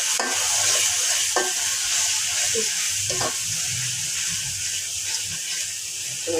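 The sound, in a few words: spices frying with beef and potato in a pan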